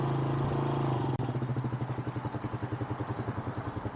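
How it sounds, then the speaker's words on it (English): A 1997 Kawasaki Mojave KSF250 ATV's 250 cc engine runs loud and close. A steady hum shifts after a brief cut into a pulsing, chugging rhythm as throttle is applied in reverse. "Now all I gotta do is give it a little throttle."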